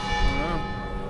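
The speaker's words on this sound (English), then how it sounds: "you get the bells going" Church bells ring out across a town in Spain, a steady bright tonal wash filling the moment at moderate distance, with faint voices and ambient background beneath.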